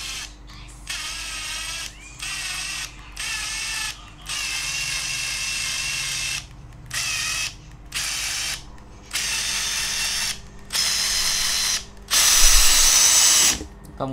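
A Makita TD141D cordless impact driver runs at its lowest speed setting in repeated bursts of roughly a second, a steady whirring with short gaps between, close and moderately loud.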